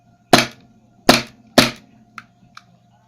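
A KSC Makarov airsoft pistol fires three loud, sharp shots in quick succession, close up, followed by two much fainter clicks, with no talking.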